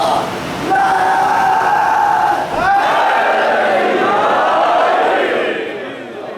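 At a Muharram gathering on Nicholson Road in Lahore, a large crowd roars back a slogan in unison, a loud sustained collective shout that swells, dips briefly, then rises again before tapering off.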